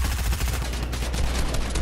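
Drum gun firing in Fortnite, a dense continuous burst of rapid automatic gunfire, loud and unbroken.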